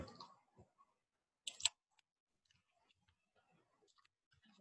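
A computer keyboard with a faulty S key gives sparse, quiet clicks and taps, including one sharper burst of keystrokes, scattered across an otherwise near-silent room.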